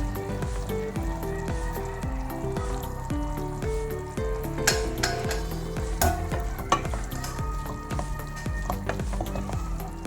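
Vegetable kurma being stirred as it cooks in a pan, with a steady simmering sizzle and repeated scraping strokes of the spoon in a regular rhythm, close and moderately loud with background music-like tones.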